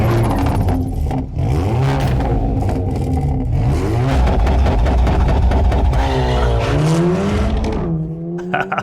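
A 2022 Hyundai Elantra N four-cylinder roars close and loud, climbing and falling through repeated revs with rising gear-like pitch sweeps, a whine on top, and a brief tire squeal as it accelerates hard before fading at the end.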